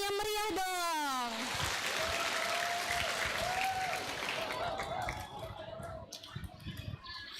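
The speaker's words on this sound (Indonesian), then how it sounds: "Berikan tepuk tangan yang meriah dong." Lively audience applause at a university student orientation at UIN Raden Fatah Palembang, dense clapping rising right after a voice ends and continuing loudly, thinning toward the close.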